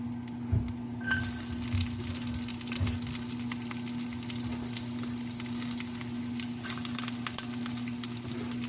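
Onions sizzle steadily in a hot pan with rosemary nearby, a constant close frying hiss with a low steady hum beneath and occasional soft stirring clinks, no voices.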